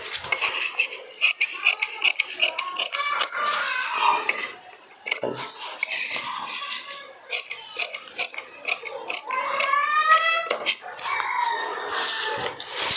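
Scissors cut through fabric for an umbrella palazzo in a rapid run of crisp, close snips and clacks that pause briefly before resuming, while chickens cluck and call in the background.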